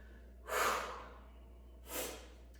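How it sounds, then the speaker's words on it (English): Two sharp sniffs through the nose, close and quiet, separated by a second or so of near silence. "And sniff, sorry about the sniffles."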